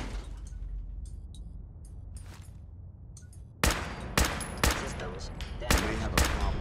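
Rapid gunfire from weapons in the video game Fallout 4, starting midway as a series of sharp, loud shots in uneven bursts, after a quieter stretch of faint ambient game sounds.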